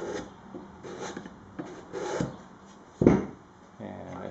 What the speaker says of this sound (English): So we'll just attack that area more with the scraper.